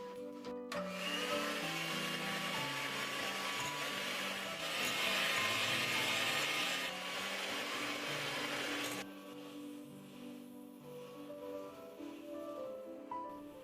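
An electric mixer beats meringue while sugar is gradually added for an Esterházy cake, giving a loud, steady whirring drone for about nine seconds that then drops to a quieter hum, with faint background music and no talking.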